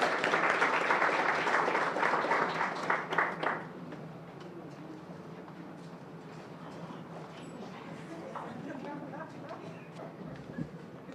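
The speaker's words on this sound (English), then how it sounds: "Let's give her another round of applause." Audience applause fills a hospital accreditation ceremony, a dense burst of clapping that tapers off after a few seconds into quieter room noise.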